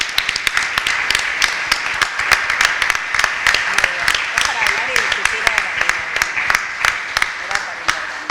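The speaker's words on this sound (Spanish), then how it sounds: "yo voy a pedir otro aplauso a ellas que gracias" Sustained audience applause at a civic democracy forum in Venado Tuerto, dense steady clapping with sharp individual claps standing out, continuing for the whole stretch without a break.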